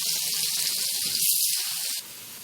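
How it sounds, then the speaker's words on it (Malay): Water pours steadily into a cooking pot of sautéed green chili and ground spice paste with a bright, rushing hiss, close and continuous, softening abruptly near the end. "Sekarang saya masukkan air secukupnya."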